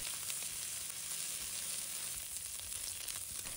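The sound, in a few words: dried shrimp stir-frying in hot oil in a wok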